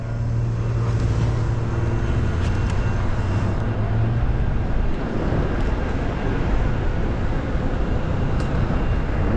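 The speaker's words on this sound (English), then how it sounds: "We get a train." A train passes on the streets of Anaheim as a loud, continuous rumble with a low droning hum, close by and steady throughout, with no talking.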